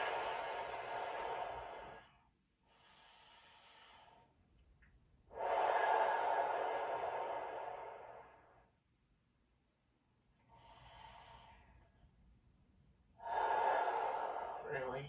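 Deep, loud exhaling breaths come in several long bursts during a stretching session, separated by quieter pauses.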